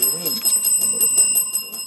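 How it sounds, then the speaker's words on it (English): A rapid, ringing electronic bell marks the end of a televised high school quiz competition match, repeating in quick pulses while a voice talks over it. "that sounds like the final bell"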